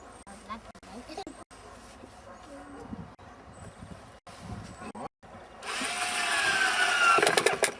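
Power drill with a blunt bit boring into wood while building a nest box, with quiet talk and handling noises first, then a loud, sustained grinding whir in the final two seconds.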